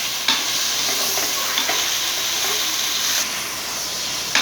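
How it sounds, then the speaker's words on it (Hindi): Chicken pieces sizzling and frying in a pan with light-browned garlic for a chicken macaroni dish, steady loud hiss and crackle with occasional stirring clatter, close and continuous, no talking. "लहसुन हमारा लाइट ब्राउन हो गया तो हम इसमें चिकन शामिल करेंगे और इसका कलर चेंज होने तक इसको जो है हम पकाएंगे।"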